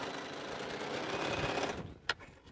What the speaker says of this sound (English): Alright, so this row is now sewed